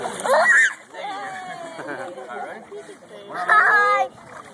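A child splashing and swimming during a swimming lesson, with bursts of loud splashing and excited cries at the start and end and an adult speaking in between.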